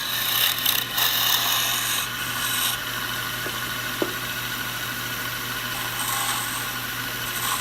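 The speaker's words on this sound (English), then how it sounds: "We gotta sharpen this tool." A wood turning tool is sharpened with a steady, close abrasive hiss that runs unbroken throughout, with a couple of faint clicks partway through and no talking.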